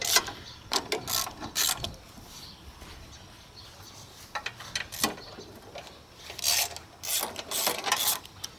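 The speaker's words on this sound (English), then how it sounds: "Alright, we got 3/8 bolts to take off all the way around." A hand ratchet loosens 3/8 bolts around the deck of a push mower, giving quick bursts of sharp clicking that stop and start with short quiet gaps between them.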